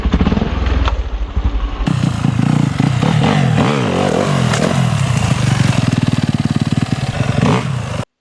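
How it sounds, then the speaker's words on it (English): A trials motorcycle engine revs hard while powering over a log, starting with lower idling then rising into loud, close, fluctuating revving with clattery bursts that hold until an abrupt cutoff. "you'll hear my engine rev up here as I try and power out of this and get the front wheel lighter"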